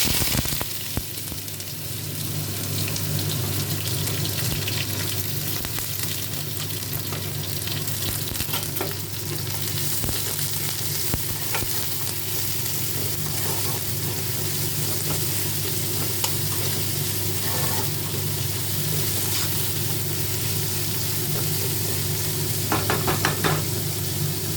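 Onions frying and being stirred in a wok for vegetable chow mein: a loud, continuous sizzle with frequent stirring scrapes and occasional knocks of the utensil against the pan.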